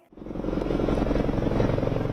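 A helicopter's rhythmic, low thudding drone rises quickly and holds steady and loud, close by.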